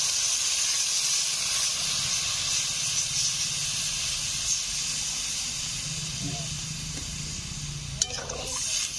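Water poured into a hot pan of pabda fish curry raises a loud, continuous steamy hiss and bubbling sizzle, with a brief sharp clink near the end and faint talk in the background.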